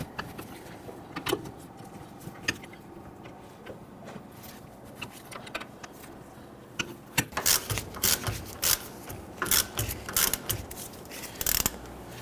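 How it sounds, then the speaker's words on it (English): Ratchet turning bolts on the rear brake dust shield of a 2010-2019 Ford Taurus, with faint irregular clicking that grows into sharper, louder ratcheting bursts toward the end. "then you go ahead and pop your ratchet on there."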